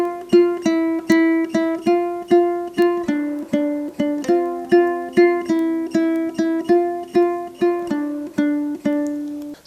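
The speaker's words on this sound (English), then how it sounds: "when you play it together, it should sound like this" Ukulele strumming a steady rhythmic pattern for a song, with regular strokes and percussive taps between chords, played clearly and alone without any voices.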